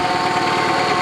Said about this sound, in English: The whirring or howling noise you're hearing is a bad power steering pump.